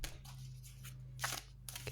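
Tarot cards are shuffled by hand, giving a few brief papery riffles and crisp snaps separated by short quiet gaps over a low steady hum, close and fairly soft.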